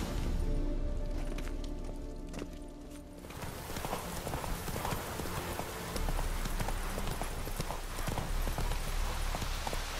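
Roach, the horse in The Witcher 3, gallops with a steady, loud clip-clop of hooves that starts quieter and fills the whole stretch with continuous rhythmic thudding.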